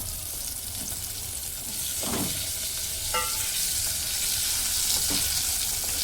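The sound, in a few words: brinjal pieces frying in oil with turmeric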